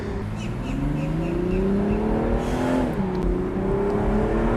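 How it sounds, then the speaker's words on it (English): A powerful 2024 BMW Z4 M40i engine revs steadily, top down, its pitch climbing smoothly then dipping and settling into a loud, sustained growl, close by. "you can hear the engine sound. It is spectacular, especially with the top down."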